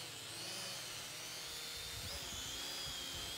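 A Holy Stone HS110D drone flies nearby with a steady high-pitched whine from its small propellers. The pitch shifts and wavers slightly as it moves. The drone stays faint but constant throughout, and no voices are heard.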